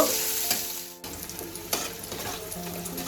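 Chopped onions fry in hot oil in a pan, a steady crackling sizzle with a few scraping stirs and a brief break partway through, close and alone without talk.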